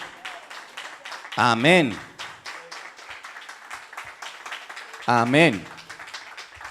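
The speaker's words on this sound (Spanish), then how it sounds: "Dale un aplauso al Señor" Church congregation clapping for the Lord during a Pentecost sermon, a steady patter of hands under a pastor's voice, with two louder spoken exclamations rising above it.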